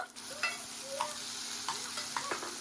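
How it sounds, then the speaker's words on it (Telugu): Onions, carrot, beans and potato pieces sizzle gently in a pan. A utensil scrapes and stirs through them in a few separate strokes, close by and fairly quiet. "ఇప్పుడు ఇందులోనే క్యారెట్, బీన్స్, అలాగే బంగాళదుంప ముక్కలు వేసేస్తున్నాను."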